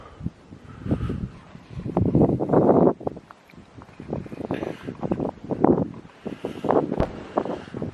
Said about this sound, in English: It's a bit breezy today, but hopefully it's not completely killing the camera and you can still hear me.